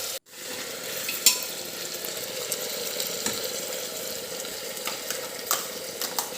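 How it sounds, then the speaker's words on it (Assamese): Village-style goat meat curry cooking in a pot, giving a steady, close sizzling and bubbling hiss with a few small clinks and pops. "এয়া দেখিছেনে, ধুনীয়াকৈ উতল আহিছে"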